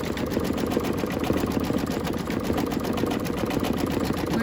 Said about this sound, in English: it's stitching through vinyl, it's stitching through fabric, it's stitching through batting